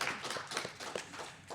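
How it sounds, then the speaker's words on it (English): Brief, fairly faint audience clapping for a guest at a live wrestling show at a convention, a short burst of scattered claps that tapers off. "Give him a round of applause again."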